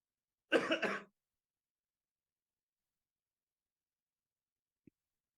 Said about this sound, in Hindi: पोल्यूशन की वजह से खांसी है